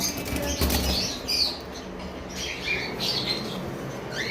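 Wings flap in a cage of cockatiels and lovebirds, a loud fluttering burst early on followed by softer scattered flutters and small chirps close by, with no talk.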